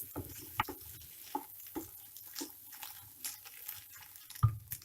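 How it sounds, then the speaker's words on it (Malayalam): Egg stirred together with vegetables in a pan for fried rice, with soft intermittent scraping and tapping of a spatula over a faint background sizzle, quiet and close. "ഇനി നമുക്ക് ഈ വെജിറ്റബിൾസിൻ്റെ കൂടെ ഇത് ഫുള്ള് മിക്സ് ചെയ്തെടുക്കാം"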